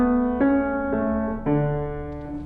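Piano playing the left-hand line of the Allemande from Bach's French Suite No. 5 without staccato, four sustained notes blending into each other in a slow, even sequence, close and alone.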